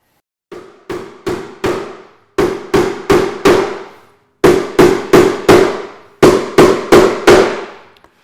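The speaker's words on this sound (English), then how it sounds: "now we're gonna nail these down" Nails are driven into bookcase shelves by hand, sharp close hammer blows falling in quick groups of three to five with short pauses between, each strike ringing briefly and loud with no talking.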